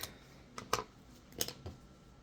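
Scissors cut off extra fabric after sewing, giving two or three crisp, close snips spaced about a half second apart in a quiet room.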